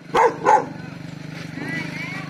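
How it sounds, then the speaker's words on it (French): A dog barks twice in quick succession on Koh Samui, two loud close barks followed by quieter background sounds, with a person's voice present around them. "Salut le toutou."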